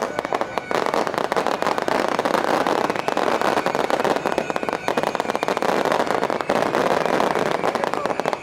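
A fireworks display in Jaffna crackles and pops densely and continuously, loud and close, with bursts overlapping throughout and a few voices faintly beneath.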